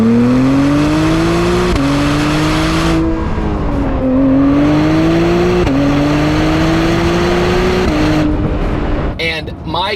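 An Acura NSX Type S sports car engine accelerates hard, loud and close, climbing through several gears with sharp pitch drops at each shift before cutting off near the end.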